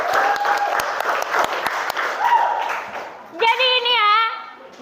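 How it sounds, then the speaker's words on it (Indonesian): A classroom group claps briefly, with sharp separate claps near the start, followed by children's voices and a loud, drawn-out shout. "kasih tepuk tangan dulu."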